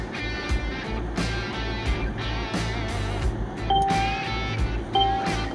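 A 2017 Mercedes E300 creeping forward on its own under Parking Pilot assist, with a low steady engine hum and a series of periodic soft chimes and beeps repeating about every second, plus faint interior clicks.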